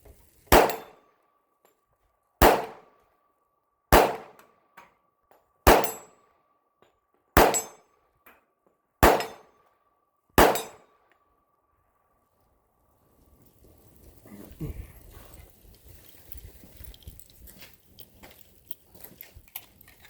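Seven sharp pistol shots from a Norinco 1911A1, each followed by a ringing steel target impact, evenly spaced at a steady rhythm, then rustling and handling noise with no further shots.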